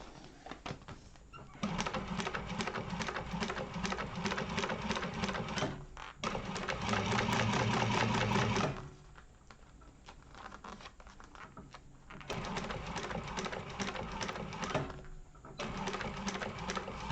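Sewing machine running long basting stitches through fabric, loud rapid needle chatter in bursts of a few seconds separated by short pauses, close up and without talk.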